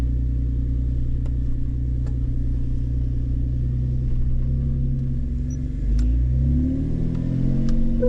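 An off-road vehicle engine labors in first gear up a steep trail, a loud low rumbling drone holding steady, then dipping briefly before revving up again with rising pitch near the end.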